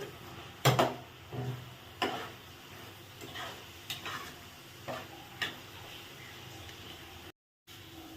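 A spoon scrapes and taps through a spiced alasanda (black-eyed pea) curry mixture with turmeric, coriander powder, chilli and salt, making irregular clinks and scrapes over a steady low background, with no talking.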